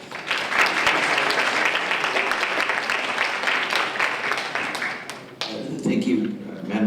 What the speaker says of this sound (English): let's give a round of applause to Assembly Member Eduardo Garcia.